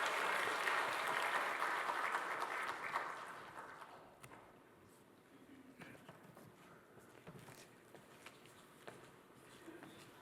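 Church congregation applauding in welcome during a Sunday service, a steady wash of clapping in a large room that fades after about four seconds, leaving faint shuffling and room noise.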